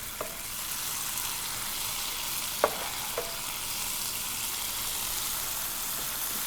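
Okra frying in an iron skillet gives a soft, steady sizzle, broken by a few light metallic clicks and taps of a utensil, quiet and close with no voices.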